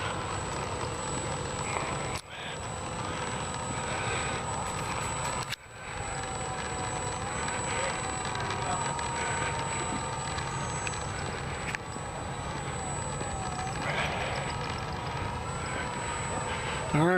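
Warbird propeller aircraft, including a small Corsair, running with a steady engine drone at a distance through the whole stretch, with a voice talking over it.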